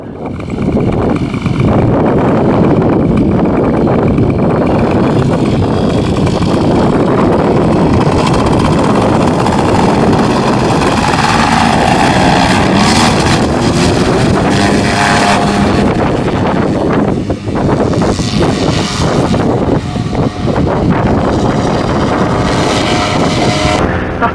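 Paramotor engine droning loud and steady in flight, with heavy wind buffeting the microphone and the pitch shifting slightly as the pilot uses engine torque to turn.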